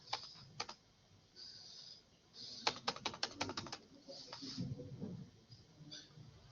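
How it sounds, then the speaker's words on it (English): Someone types an ipconfig command on a computer keyboard, a quiet close string of quick key clicks in irregular bursts with a few heavier taps, no voices heard. "I will type it."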